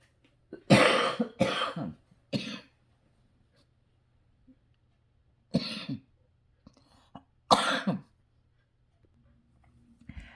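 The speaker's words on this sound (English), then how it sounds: "Got a coughing fit." A short bout of harsh coughing, several loud coughs in quick succession, then two more isolated coughs after pauses, with near silence between.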